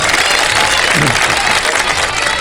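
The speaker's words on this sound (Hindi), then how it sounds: "बहुत सारी तालियां" Studio audience claps together in a dense, steady burst during a Ramadan television game show, loud and continuous with a voice briefly audible under it.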